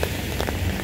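Steady rain falling on an outdoor street with passing traffic, a continuous dense hiss with faint low rumble throughout, no voices.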